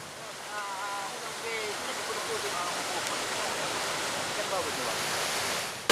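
Swift, flood-swollen river current rushing past an emergency crossing after floods and landslides in Sibolga and Tapanuli, a steady, loud broadband roar of water throughout with faint tonal chirps mixed in.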